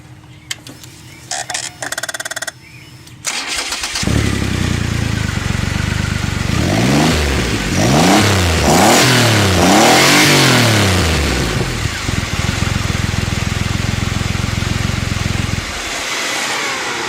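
A nearby engine fitted with a Ramair intake idles, then revs repeatedly in rising and falling sweeps before dropping back to a steady idle; loud and close throughout.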